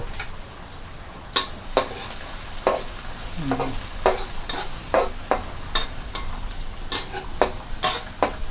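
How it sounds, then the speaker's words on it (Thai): Garlic and dried red chilies stir-fry in a pan over medium heat, a continuous loud sizzle broken by repeated sharp clacks and scrapes of a spatula against the pan, close up and with no voices. "ผัดกระเทียมให้หอมนะคะกับพริกแห้งแดงจินดานะคะ"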